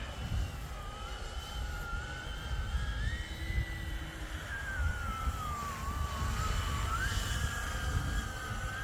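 Flywing RC model helicopter styled after the Hill HX50 with a six-bladed rotor, flying nearby with a continuous whirring drone whose pitch rises and falls as it manoeuvres, steady and fairly loud with no talk.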